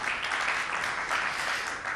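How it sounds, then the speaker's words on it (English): An audience applauds the panelists at a financial markets panel event, a continuous, even wash of clapping throughout the short stretch, with no voices. "round of applause for our panelists."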